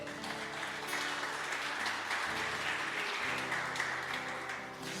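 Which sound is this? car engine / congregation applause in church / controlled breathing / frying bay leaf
congregation applause in church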